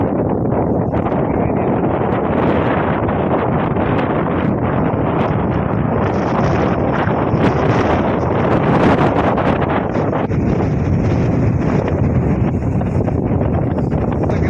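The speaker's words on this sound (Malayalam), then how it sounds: "ഈ മാതിരി കാറ്റാണ് വീശുന്നത്" Strong wind buffets a hilltop at Ilaveezhapoonchira in Kottayam district, a loud continuous roar and rumble with heavy gusts hitting the microphone throughout.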